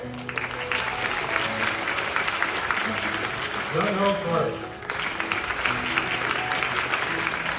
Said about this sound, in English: Let's give a big round of applause to these